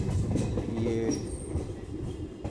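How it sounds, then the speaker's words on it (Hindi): A passenger train rumbles steadily along the rails approaching Gaur railway station on the Basti to Bahraich route, with continuous close rolling noise and faint clicks, heard from on board. "पैसेंजर ट्रेन हर जगह रुकते हुए जाएगी।"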